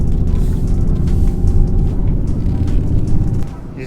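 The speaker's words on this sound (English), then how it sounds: "Misfiring." A Lexus GS300 engine misfires while the car is driving, a loud, close, uneven low rumble that drops off near the end, with a voice under the engine noise.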